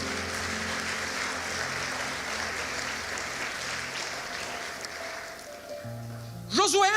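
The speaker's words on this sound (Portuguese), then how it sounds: "Pode aplaudir o Senhor." A church congregation applauds steadily, filling the room with a dense wash of clapping that holds for about six seconds. Near the end, musical tones and a voice rise over the fading applause.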